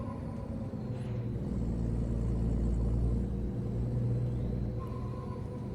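Heavy truck with a 12+2 gearbox in Euro Truck Simulator 2, its engine giving a steady low rumble under road noise, with a faint hiss partway through and no talk.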